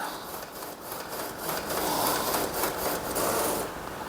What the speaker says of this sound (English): that's a Epson sublimation printer that I converted. But anyway, we can see the design is starting to come out